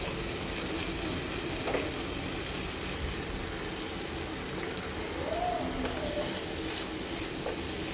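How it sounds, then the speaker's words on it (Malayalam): Prawn curry masala being stirred in a frying pan, a steady close sizzle of frying with soft scraping stir strokes throughout, no talking. "എല്ലാതും കൂടെ നമുക്ക് നല്ലൊന്ന് മിക്സ് ചെയ്ത് കൊടുക്കാം."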